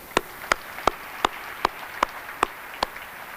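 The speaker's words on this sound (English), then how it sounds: "Please give them a round of applause." A few people clap slowly at a televised ceremony, eight single, evenly spaced claps about every half second, moderately close over a quiet room.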